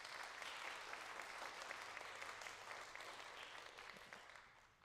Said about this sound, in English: So give a round of applause to August.